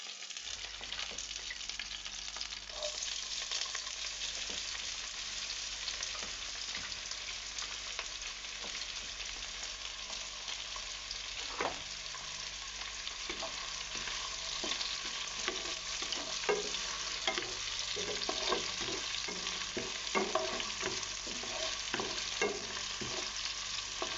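Ginger, garlic and cumin paste frying in a pan with steady sizzling, plus intermittent stirring clicks and scrapes near the close.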